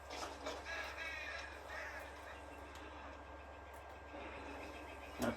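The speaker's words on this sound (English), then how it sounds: "That's a crow. Oh, crows." A crow caws a few times at a distance in the Red Dead Redemption 2 game, faint against a steady ambient outdoor background.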